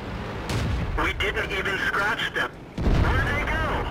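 Tank cannon fire in World of Tanks from an A-43 medium tank fighting an IS-2, two loud booming shots with rumbling engine and battle noise continuing around them.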